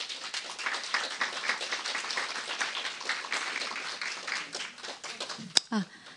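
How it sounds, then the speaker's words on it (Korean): Audience applauding at a UNESCO forum in Jeju, steady dense clapping throughout, with an announcer's voice heard near the end. "큰 박수 부탁드립니다."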